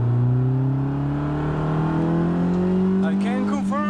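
Honda EF sedan engine revving hard and climbing steadily in pitch toward VTEC, loud and close from inside the car during a test drive, with a brief voice near the end.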